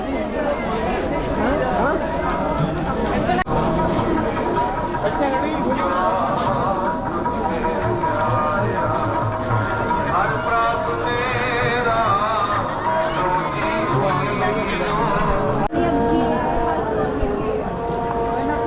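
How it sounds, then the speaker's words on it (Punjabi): A large crowd of worshippers mills around Gurdwara Sri Fatehgarh Sahib in Sirhind, giving a continuous babble of many voices with footsteps and general bustle, while a nearby voice talks over it. "ਭੀੜ ਦੇਖੋ ਜੀ ਸੰਗਤ ਇਹ ਆ ਸਭਾ"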